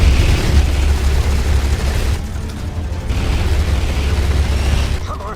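Fighter jet cannon fire in a Top Gun Maverick dogfight plays as a dense, loud roar of rapid booming bursts over heavy low rumble, with a brief lull in the middle before the firing resumes.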